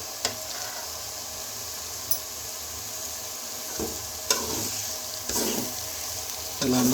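A spoon stirs and mixes a home-cooked curry in a frying pan, with soft scraping strokes and a few sharper clinks over a low background sizzle.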